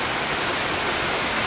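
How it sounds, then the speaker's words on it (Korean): Steady broadband rush of a waterfall pouring down from a mountain top at Gangcheonsan, loud and continuous with no break, heard alone without voices. "산 꼭대기에서 내려옵니다, 물이."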